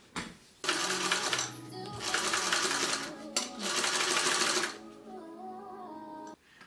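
A sewing machine bastes webbing at an eighth-inch seam allowance, running in three loud bursts of rapid stitching separated by short pauses, then a quieter hum at the end.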